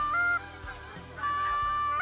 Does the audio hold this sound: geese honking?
yes